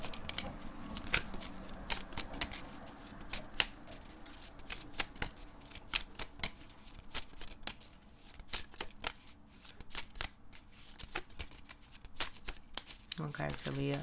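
Tarot cards are shuffled for a card reading, with steady crisp riffling and flicking throughout while a voice talks softly alongside.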